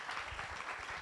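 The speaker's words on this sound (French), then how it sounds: "Mais on peut applaudir hein, quand même." An audience at an awards-night interview event claps briefly, a soft, distant patter of applause held at a low, even level with no voices.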